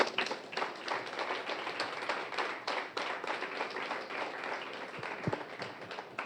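A church congregation claps and applauds together, a dense, steady patter of many hands sustained throughout at moderate loudness, with faint voices mixed in beneath.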